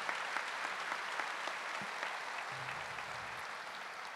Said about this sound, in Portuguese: Vamos aplaudir essas palavras do Papa João Paulo II.